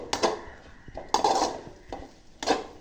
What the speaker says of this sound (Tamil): இப்போ தேங்காய் பூவை வந்து வறுக்க போகிறோம்